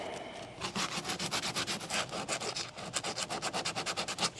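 Coarse sanding strips old adhesive from a kayak keel, a close rhythmic rasping in quick back-and-forth strokes that keeps a steady pace.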